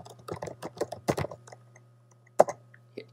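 Quick clicking keystrokes on a computer keyboard as a website address is typed, a rapid burst of close taps followed by a pause and a few isolated presses, with no talking.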